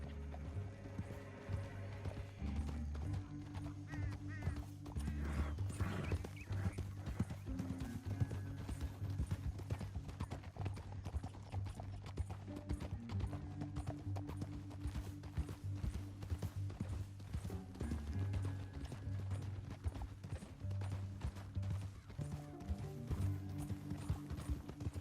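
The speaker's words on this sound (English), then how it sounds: "Up here, get off your horse." Horses gallop in Red Dead Redemption 2, a long, dense run of rhythmic hoofbeats with clinking tack and mechanical rattles, loud and close, with occasional snorts and no talk.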